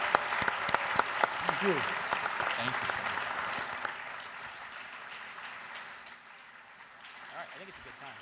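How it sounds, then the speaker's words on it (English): An audience at an education summit gives sustained applause for a group of speakers, steady clapping that tapers off, with a voice speaking briefly over it. "So please, a round of applause."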